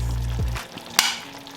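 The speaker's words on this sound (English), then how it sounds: "at this point, I'm going to add the carrots and the chopped tomatoes." Carrots and chopped tomatoes tip into a pot of simmering curry chicken, giving a soft pour and clatter with a sharp thump near the middle over a steady low bubbling cook.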